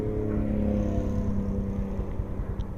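A Honda XRM 125 Fi motorcycle, all stock with a 15/35 sprocket setup, runs in fourth gear near top speed, a steady droning engine note with wind rush, loud and close, with no talk.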